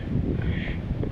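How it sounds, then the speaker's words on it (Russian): Strong, icy spring wind on a lake during a fishing trip buffets the microphone as a steady, close, roaring rumble that persists without any voices. "И вот этот ледяной сумасшедший ветер."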